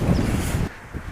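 Wind gusting hard across an exposed hilltop by Iron Age hill fort ramparts, buffeting the microphone with a loud rumble that drops away abruptly partway through.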